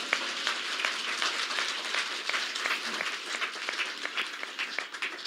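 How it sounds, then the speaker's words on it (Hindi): Loud, sustained applause from an audience welcoming a speaker at a Gita Darpan introduction event, steady dense clapping throughout with no voices over it. "खूब जोरदार ताली से स्वागत।"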